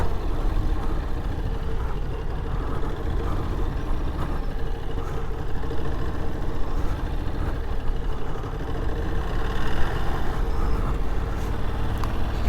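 A 2023 Ducati Desert X motorcycle engine runs steadily during slow slalom handling exercises, a low rumbling idle-like drone with faint mechanical ticking and no speech.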